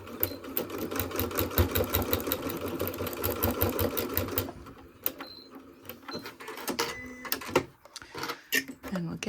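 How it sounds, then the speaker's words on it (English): Sewing machine stitching straight across a fabric watch band, a fast steady needle rattle for about four seconds, then stopping into quieter handling clicks and light rustles. "I'm going to stitch right across here."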